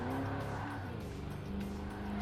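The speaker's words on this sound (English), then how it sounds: "The car has an interesting sound." A race car engine in the Ford Racing 3 video game holds a steady, buzzing drone with a shift in pitch partway through, fairly quiet and without talk.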